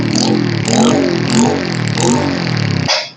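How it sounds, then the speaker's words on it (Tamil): A 2005 Bajaj CT100 Deluxe motorcycle's single-cylinder engine revs up and down in rhythmic surges, loud and close, then cuts off abruptly near the end. "2005 model Bajaj CT100 engine super கண்டிஷனில் இருக்குங்க"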